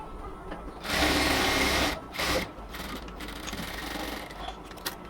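Sewing machine stitching the folded side seam of a cotton kameez, a loud buzzing run of about a second, a short second burst, then quieter intermittent whirring with brief stops.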